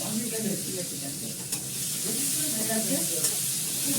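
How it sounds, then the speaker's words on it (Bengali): Continuous sizzling of food frying in a pan, steady and close, with faint stirring scrapes now and then. "ভালো করে লাল করে ভাজা"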